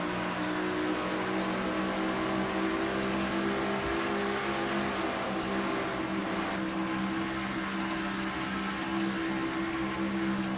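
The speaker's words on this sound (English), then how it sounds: "On board with Cole Deaver in car number 3, the GM Goodrich Chevy" Stock car race engine droning steadily throughout a Dodge Challenger 500 racing game, a Chevy car number 3 running on track with other cars around, loud and continuous with no talk.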